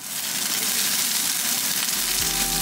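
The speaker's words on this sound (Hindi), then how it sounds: "जब तक आलू फ्राई हो रही है" Potatoes fry in a pan with a steady, close, crackling sizzle that holds throughout, joined near the end by a low humming tone.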